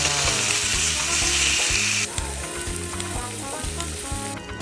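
Food sizzles loudly in a pan at an outdoor cookout, pork belly and minari pancake frying, with a dense steady crackle that drops slightly partway through while stirring and scraping clatter underneath.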